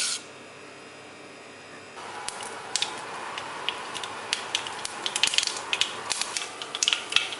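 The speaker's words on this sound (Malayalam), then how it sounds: "കടുക് പൊട്ടിയിട്ടുണ്ട്." Mustard seeds crackling in hot coconut oil in a pan, a quiet hiss for the first two seconds, then a steady sizzle with scattered sharp pops and ticks growing denser toward the end.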